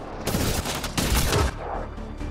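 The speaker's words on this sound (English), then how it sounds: "They shot him!" Gunfire in Mass Effect Andromeda, a short loud volley of rapid shots and booming blasts, close and alone, with no talk.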